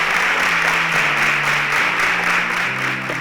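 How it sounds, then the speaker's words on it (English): A studio audience at a Nigerian televised competition gives a steady burst of applause over a low droning background, holding at an even level for a few seconds. "Please, a resounding applause for my partner"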